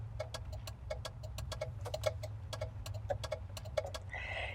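Turn indicator on a Chrysler Avenger gives a quick, regular run of sharp clicks inside the cabin over a low idling engine rumble.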